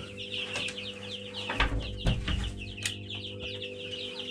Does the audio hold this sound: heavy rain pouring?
no